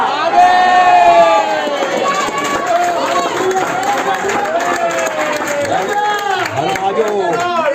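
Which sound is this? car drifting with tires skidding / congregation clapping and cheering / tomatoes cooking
congregation clapping and cheering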